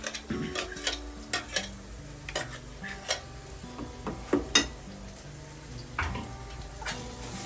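Soft sizzling of spices tempering in oil in a pan, with intermittent stirring clinks and scrapes, fairly quiet, the spoon striking metal every second or so.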